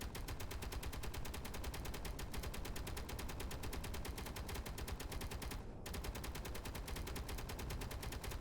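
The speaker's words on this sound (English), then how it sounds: "Is the turret still shooting?" A video game turret fires at a ship in a rapid, unbroken stream of shots, evenly spaced and fairly faint, with one brief gap midway.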